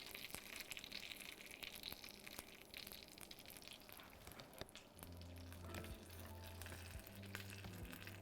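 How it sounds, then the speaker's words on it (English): Roasted pork hock sizzling and popping in its roasting pan, a steady close crackle throughout with a deeper hum from about five seconds on, no talking. "Look at those sizzles though. When it's still popping."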